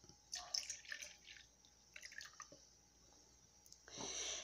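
Whole milk pours from a carton into a sweetened condensed milk dessert mixture, quiet close splashing and trickling in short irregular bursts, ending with a fuller, steadier pour.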